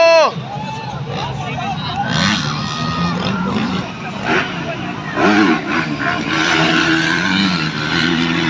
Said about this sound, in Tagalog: Grabe yung motor ni BJ Pipito